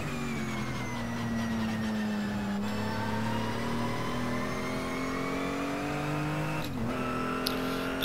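In a racing video game, a car engine drones steadily while driving, its pitch creeping upward. Two brief dips mark gear changes from the gearbox, and the engine sound is loud and continuous, with no talking.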